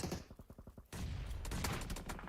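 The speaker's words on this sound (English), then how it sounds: "grenades just popping off" Grenades going off in a competitive esports shooter match: a run of quick, rhythmic popping bursts, then a sudden loud blast that swells into sustained, dense rumbling crackle with no voices.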